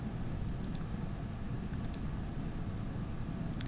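A few sharp computer mouse clicks in quick pairs stand out over a faint room hum, quiet and close, with no one talking.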